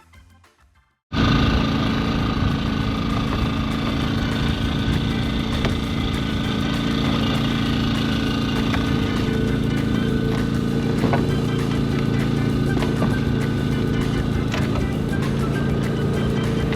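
Boat engine throttled up after a short quiet start, then a loud, sustained rumbling roar that holds steady for the rest of the clip.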